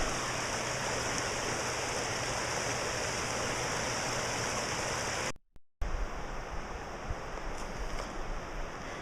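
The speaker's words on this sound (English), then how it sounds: "We're right here on this very beautiful river" A river flows steadily, a dense even rush of water heard up close and fairly loud, interrupted briefly by a short dropout before the same continuous flow resumes.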